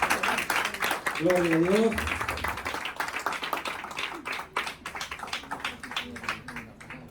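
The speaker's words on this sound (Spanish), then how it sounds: "Si le pueden dar un aplauso fuerte al hermano" A church congregation breaks into applause during a pastor's sermon, a spread of sharp claps rising after a brief spoken phrase and continuing through the rest, moderately near.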